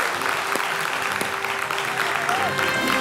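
An audience applauds at a French daytime talk show, the dense clapping continuous and even throughout, with a voice faintly audible under it.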